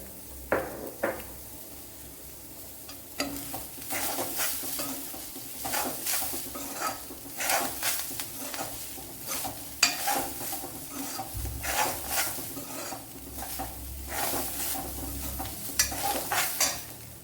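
Cumin seeds sizzle in hot oil in a pan while a spoon stirs them, giving repeated scraping strokes over a steady frying hiss, close and continuous with no talk, during cooking of Kerala kumbalanga theeyal.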